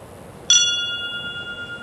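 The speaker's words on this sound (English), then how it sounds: "Got a hook on it and put a brass bell on there." A single strike on a brass bell hung from a hook on a cedar post in a yard, a sharp clear ding that rings on with a long sustained tone, alone with no talk.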